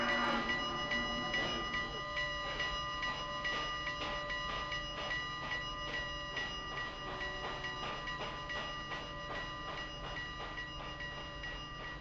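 A video game train rolls steadily along the rails with rhythmic clacking and a constant mechanical hum, unbroken and fairly loud.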